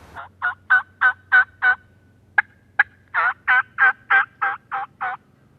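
Wild turkey calls sound out clearly in a quick series of loud, rhythmic clucks and yelps, pausing briefly before another run of calls.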